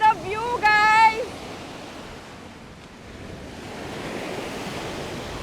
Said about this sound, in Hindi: लहरों की कितनी प्यारी आवाज़ आ रही है।